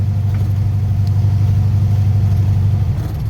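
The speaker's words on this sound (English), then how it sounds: "Definitely not giving me all the full throttle here." A 1970 Pontiac LeMans with a 455 engine and MSD ignition runs under throttle, its secondaries not opening, making a loud, steady, low engine rumble that continues unbroken with no talking.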